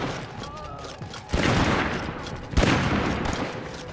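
Loud bursts of gunfire in the zombie survival game State of Decay 2, two heavy volleys near 1.3 and 2.6 seconds, each followed by sustained rattling fire and booming across a busy game soundscape.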